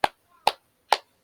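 Three sharp claps evenly spaced, roughly half a second apart, as young third-grade primary school children clap together in a classroom during an Islamic religious education lesson; crisp, close and alone with no talk.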